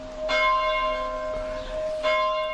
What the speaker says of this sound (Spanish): Mira cómo suenan las campanas.